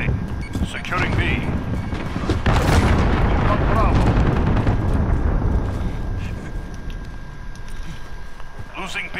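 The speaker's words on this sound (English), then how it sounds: "Allied cruise missile away." Cruise missile strikes in Call of Duty: Modern Warfare, a long rumbling wall of deep booming blasts that swells and rolls on for several seconds, with a player's voice talking faintly over the din.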